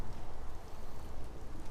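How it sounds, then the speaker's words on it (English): Steady rain falls outdoors at a bushcraft build of a Celtic roundhouse, a soft continuous patter of drops with no talk, fairly quiet and even throughout. "But it really is raining."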